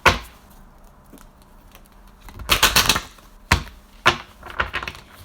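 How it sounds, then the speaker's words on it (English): Oracle cards being shuffled by hand: several bursts of brisk riffling and slapping, with a few sharp taps between them and short quiet gaps, close and fairly loud. "let me shuffle these cards and pull out a card"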